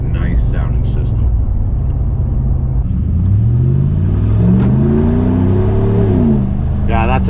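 A lifted Ram Classic pickup's exhaust rumbles at idle, then revs up in a rising, deep roar that swells and falls back, loud and close, with voices talking over the start and the end.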